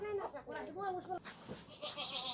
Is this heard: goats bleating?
yes